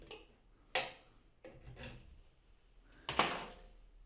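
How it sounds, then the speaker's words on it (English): A knife trims gland packing from a dripping kitchen tap's compression valve, giving a few close, short scraping and rasping strokes in a quiet room, with no talking. "Trim that with a knife without trimming my fingers."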